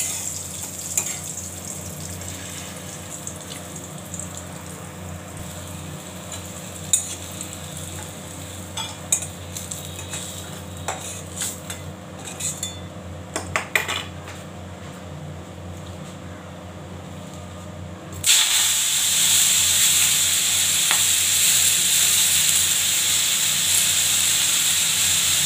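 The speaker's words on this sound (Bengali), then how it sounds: "মেথি শাক ভাজবো।" Fenugreek leaves (methi shak) frying and being stirred in a pan: a continuous sizzle with scattered scraping clicks, then a louder, brighter hiss that swells near the end, with no talk.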